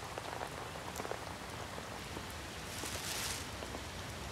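Steady rain falling and pattering on surfaces, a dense, even wash of drops throughout with no speech.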